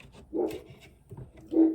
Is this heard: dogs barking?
yes